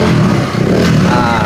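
A Honda Beat FI scooter engine runs steadily and loudly up close after a repair for a blinking MIL fault code, its revving hum continuous throughout without pause.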